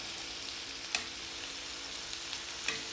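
Shrimp sizzle and fry in a hot pan for creamy shrimp scampi, a steady close hiss with a few soft clicks of stirring, no talk.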